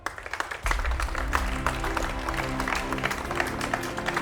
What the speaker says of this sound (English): a big round of applause for each one of you taking part over here